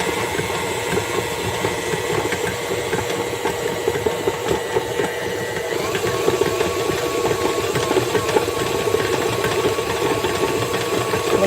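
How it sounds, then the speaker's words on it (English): A kitchen blender whirs steadily, blending sugar for snowball cookie dough. It is a loud, continuous motor hum with a grinding texture throughout, and nobody speaks. "And I'm going to blend this until it's smooth."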